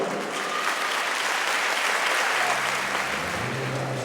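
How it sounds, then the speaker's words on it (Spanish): Concert audience applauding as a performer is introduced on stage, sustained dense clapping throughout, with a low musical tone entering toward the end. "Un fuerte aplauso."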